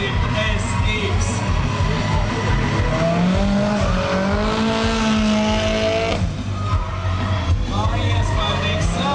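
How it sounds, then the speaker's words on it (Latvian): A Nissan 200 SX drifts around a race track, its engine wailing and revving up and down through the slide with tire noise, loud and continuous, while an announcer talks over it. "Bet trasē Andris Valcīts, vēl viens Nissan 200 SX."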